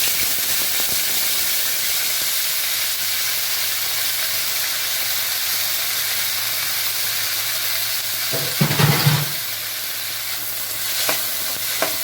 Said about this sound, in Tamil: இந்த புதினாவையும் கடலைப்பருப்பும் வதக்கணும்